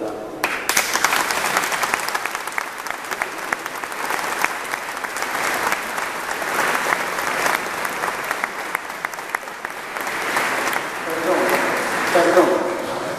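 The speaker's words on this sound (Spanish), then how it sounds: "Él me dio un aplauso, no mucho" Church congregation in Teror applauding the new parish priest. Sustained, dense clapping runs throughout at moderate distance, with a voice rising near the end.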